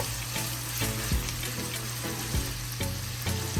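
Seasonings and natural ingredients sizzling in a pan while cooking for an ackee and saltfish taco filling, a steady close frying hiss with light stirring clatters, no voices.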